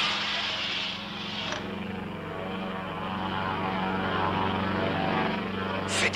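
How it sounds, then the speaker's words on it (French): Propeller airplane engines run steadily and loudly, a continuous droning hum with a buzzing whine, close and alone for several seconds, with a brief click near the end. "Fais décoller ce putain d'avion."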